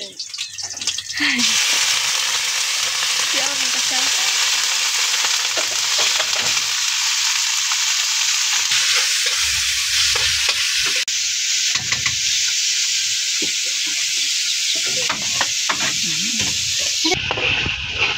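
Chicken pieces fry in a pan for chicken adobo, giving a steady, loud sizzle that runs almost unbroken from start to end, with occasional low knocks from the pan.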